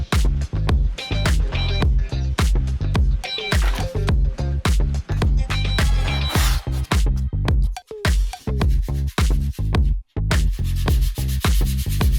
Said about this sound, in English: I sanded the hell out of this thing